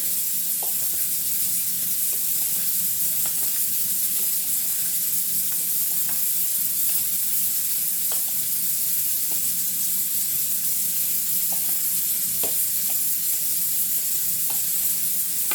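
Powdered sugar and cinnamon being mixed for a chicken and almond pastilla, heard as a steady hiss with light scattered scraping ticks of stirring, close and even, no talk.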